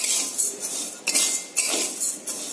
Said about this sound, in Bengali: 10 মিনিট পর্যন্ত এটাকে আমি এইভাবে অনবরত নাড়তে থাকবো।